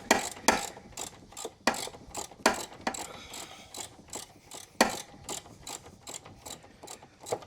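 A ratchet wrench loosening a bolt on a riding mower, giving repeated close clicking bursts in an irregular rhythm with short pauses between strokes.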